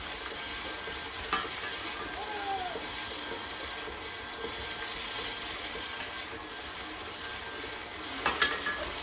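Strawberry cheesecake batter is stirred in a bowl, a soft wet swishing and scraping that runs quietly throughout, with a few brief clinks of the utensil against the bowl.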